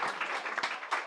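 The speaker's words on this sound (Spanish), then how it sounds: "pido por favor un aplauso para nuestros panelistas" A brief stretch of applause from a panel discussion audience, many hands clapping together at moderate volume.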